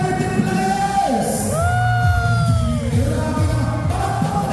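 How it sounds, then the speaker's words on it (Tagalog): A crowd at a celebrity basketball exhibition applauds and cheers in a steady, dense roar, with whoops and yells rising over the sustained clapping. "isang malakas na palakpakan at sigawan for our celebrity players!"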